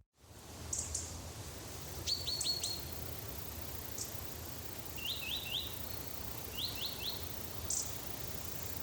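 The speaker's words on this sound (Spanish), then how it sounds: "el bosque resonaba con los cantos de los pájaros" Small birds sing in a forest, with short high chirping phrases scattered across the clip, faint and fairly distant above a steady low background hiss.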